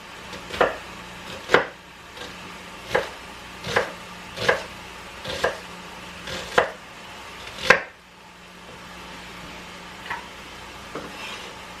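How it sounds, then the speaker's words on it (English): A knife chops onions on a board in a steady rhythm, about eight sharp, close thuds roughly a second apart, with a couple of fainter strikes trailing off at the end. No speech is heard. "I'm gonna chop up my onions"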